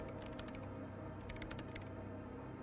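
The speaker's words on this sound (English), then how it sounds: "her hands typing hundreds of commands into the machine" Keys clatter in quick irregular bursts as commands are typed into a machine in the Disco Elysium video game, a dense mechanical tapping over a low steady hum with no talk.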